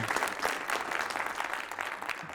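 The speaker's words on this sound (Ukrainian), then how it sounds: "Давайте оплески нашим ЗСУ." At a Ukrainian women's community event, the audience gives a round of applause for the Ukrainian armed forces, a steady, even wash of many hands clapping at a modest distance, without talk over it.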